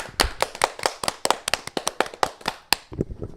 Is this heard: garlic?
no